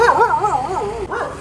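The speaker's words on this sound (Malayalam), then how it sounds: "പട്ടി കുരയ്ക്കുന്നു" A dog whines and howls in long, wavering, rising and falling cries. The sound is close and continuous, with a short break about two-thirds through, and no talking over it.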